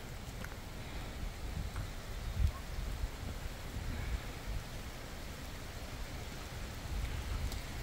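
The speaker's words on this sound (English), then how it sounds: "Listen to the rain." Steady rain falls during a rainstorm in Seattle, a soft even hiss of drops with low rumbling underneath and a couple of brief louder knocks, heard alone with no talking.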